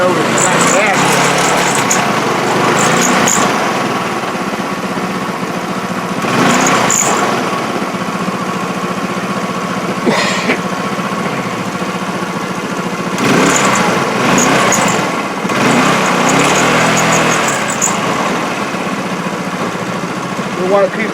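A GY6 TaoTao VIP Powermax scooter engine runs with a steady buzzing drone that swells and eases as the throttle changes, with someone talking over it.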